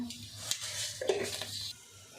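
Mustard seeds and fenugreek hit hot oil in a pan with a short sizzle, followed by a spoon clinking and scraping as they are stirred, close and moderately loud.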